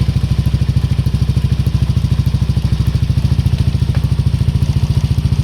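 A Yamaha NMax scooter engine runs at a steady idle close by, with an even, fast putter and no voices.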